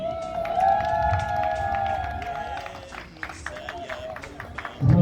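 An audience at a church consecration breaks into an ovation welcoming Pastor Joseph Alain Makendi. Dense, sustained clapping and cheering fill the hall, with tonal music or voices held over it, then a brief lull before a loud surge at the end.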